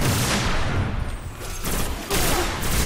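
Fusion rifle fire in Destiny, a loud charged blast with dense crackling gunfire around it, followed by a brief dip and another roaring burst of shooting.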